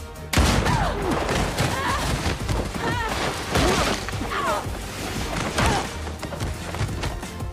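Gunfire in a crime movie fight scene bursts through a dense, loud action soundtrack of repeated sharp cracks, thuds and impacts that run continuously throughout.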